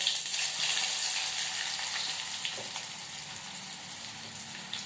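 Mustard seeds, cumin and garlic frying in hot oil, a close, bright crackling sizzle that starts strong and slowly eases, with scattered pops and no talking.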